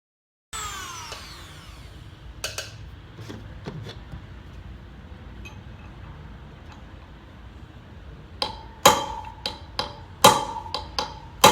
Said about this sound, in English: I'm going to Dremel it a little bit more